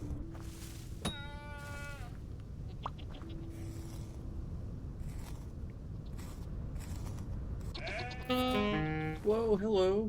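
Sheep in Vintage Story let out several short wavering bleats, one early and a cluster near the end, moderately close over a low ambient bed, with a voice talking in between.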